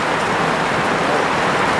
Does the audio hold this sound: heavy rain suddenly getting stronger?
yes